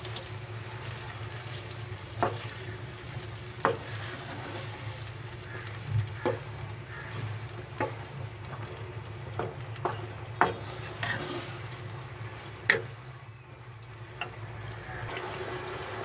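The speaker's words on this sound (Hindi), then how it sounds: "हम इसमें फेंटा हुआ दही शामिल करेंगे। मिक्स कर लेते हैं।" Whisked yogurt stirred into simmering chicken achari masala gives a soft, steady sizzle broken by repeated spoon scrapes and taps roughly every second, with no talk.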